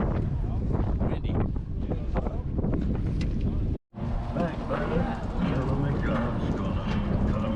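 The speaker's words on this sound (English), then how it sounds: "Man, it is windy." Gusty wind buffets a fishing boat on Donner Lake, a loud, steady roar across the whole span, broken by a brief moment of silence midway.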